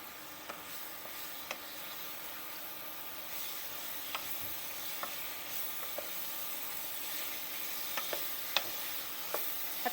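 Oil sizzles in a steady hiss in a pan of frying pork chop, broken by small scattered pops and spatters, fairly quiet and close with no voices.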